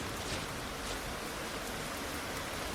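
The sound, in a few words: torrential rain sound effect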